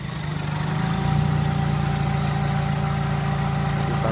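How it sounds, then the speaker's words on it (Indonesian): A stock 2008 Honda City VTEC with manual transmission idles at close range, holding a steady, even engine hum with a faint rhythmic pulse and no voices over it. "Nah, ini untuk mesin."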